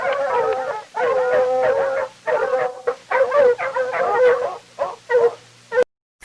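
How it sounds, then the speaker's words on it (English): A fox calls in a series of loud, close, wavering yips and howls, repeated in broken bursts for several seconds. "Fox."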